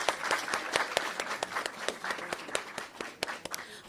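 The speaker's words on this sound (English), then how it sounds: "Let's give a round of applause" A modest audience applauds contestants at a public speaking competition awards announcement. Individual claps stand out sharply within a fairly sparse, fluttering applause that runs for a few seconds at moderate distance.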